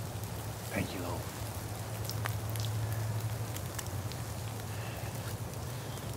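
Steady rain falls outdoors on a rainy spring morning in Georgia woods, a constant hiss of drops with a few sharper spatters close by and no voices.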